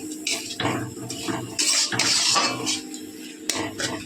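Prawns stir-fried with spices in a pan: close metallic scraping and clinking of a spatula against the pan, in irregular strokes over a wet, bubbling sizzle.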